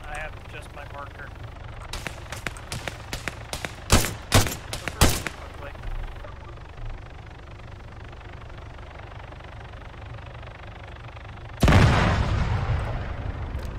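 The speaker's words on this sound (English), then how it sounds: "Secondary explosions" Explosions in the military shooter video game ArmA 3, a rapid cluster of sharp blasts and booms, followed by quieter rumbling and then a sudden loud roaring burst near the end.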